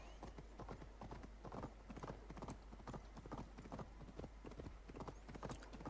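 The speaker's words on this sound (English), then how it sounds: "instead of a horse, you ride a giant elk" Steady clip-clop hoofbeats of a giant elk mount ridden in the Norse-themed video game Assassin's Creed Valhalla, a brisk even rhythm running throughout, close and moderately loud with a faint ambient bed.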